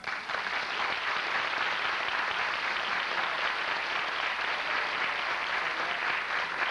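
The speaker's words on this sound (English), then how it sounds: "I'd like at this time to have you give her an extended round of applause" Sustained applause from an audience at a 1985 designers' fashion show, dense and steady clapping held at an even level throughout with no voices above it.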